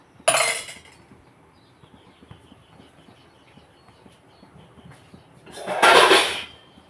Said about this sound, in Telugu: గుడ్లు మేము మూత పెడతాను గుడ్లు మీద మూత పెడతాను